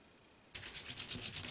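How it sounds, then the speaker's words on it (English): Paper edges get rubbed down by hand to stick them in place. After a brief quiet moment comes a close, rhythmic swishing of quick back-and-forth strokes with no talking. "And we'll just again rub those edges"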